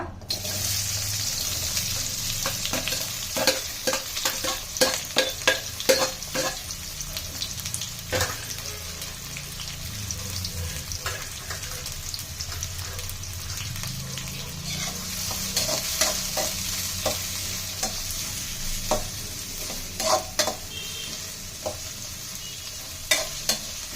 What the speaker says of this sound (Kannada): ಎಣ್ಣೆ ಕಾದಿದೆ, ಇವಾಗ ಇದಕ್ಕೆ ಆನಿಯನ್ ಹಾಕೊಳ್ಳೋಣ